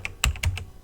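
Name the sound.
typing on a computer keyboard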